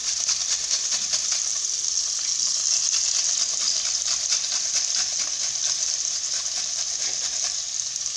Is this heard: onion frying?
yes